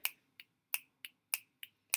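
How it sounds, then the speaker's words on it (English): A child-friendly kindergarten music class with a teacher snapping fingers, seven crisp, close snaps in a steady rhythm with silence between them and no talking. "I'm going to snap my fingers."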